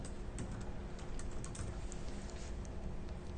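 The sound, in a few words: typing on a computer keyboard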